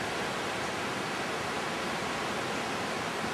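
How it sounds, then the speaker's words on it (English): Bubbs Creek on a Sierra backcountry trail rushes in a steady, dense wash of flowing water, loud and close with no other sounds. "This is Bubbs Creek."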